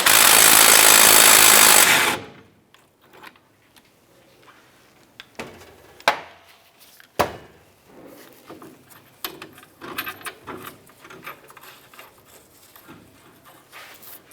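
A 21mm impact wrench runs in one loud, steady burst for about two seconds, removing the shock absorber bolt on a 2004-2012 Chevrolet Colorado, and is followed by quieter clinks and handling noises.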